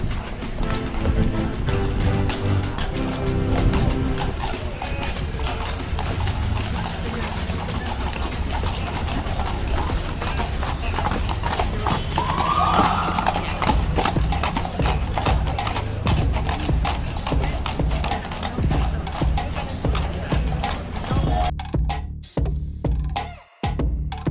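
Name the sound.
horses of a cavalcade clip-clopping in Valletta, Malta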